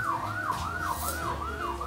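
An ambulance siren wails in a steady rising and falling pattern along a street in Kuching, Sarawak, loud and continuous over low traffic rumble.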